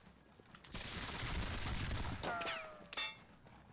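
A musket volley crackles in the video game War of the Austrian Succession during the battle of Habelschwerdt. A rolling burst of shots swells and fades, then two sharper, ringing cracks follow close by.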